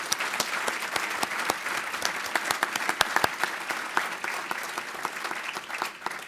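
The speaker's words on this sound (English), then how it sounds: "Can we have one more round of applause for all of our 2019 Harford Awards recipients?" Sustained applause from an audience at the 2019 Harford Awards ceremony, honoring the award recipients; dense, steady clapping with sharp individual claps standing out, continuing evenly throughout.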